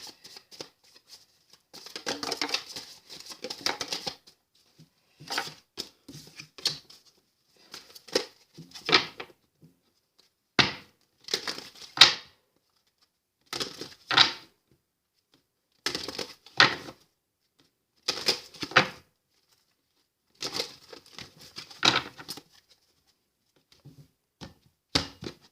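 Oracle deck cards are shuffled in repeated short bursts of riffling and sliding, close and crisp, with brief pauses between each shuffle.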